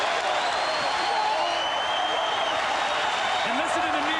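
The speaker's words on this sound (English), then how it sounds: "listen to the New York crowd cheer their team" A New York crowd at the 1999 NBA Finals Game 5 between the Knicks and Spurs roars and applauds in one sustained, loud wall of noise, with a commentator talking over it.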